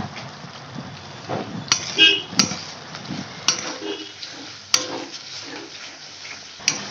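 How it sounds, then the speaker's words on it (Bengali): Spices with coriander and cumin powder are stirred slowly in a pan over low heat for doi katla, with a series of sharp spoon scrapes and clinks against the metal over a soft background sizzle. "এটাকে ভালো করে আস্তে আস্তে নাড়বো এবারে"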